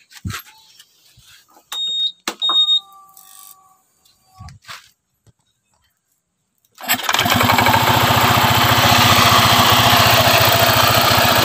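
A small engine driving a V-belt stalls through a few clicks and faint whines, then catches at once into a loud, steady, close drone that runs on without talk.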